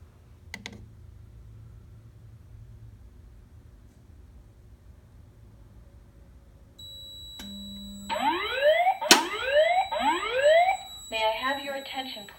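A Notifier NFS2-640 fire alarm system with DVC voice evacuation sounds during a test: a steady tone comes on, then loud repeating upward-sweeping whoops ring out, followed by a rapid pulsing pattern.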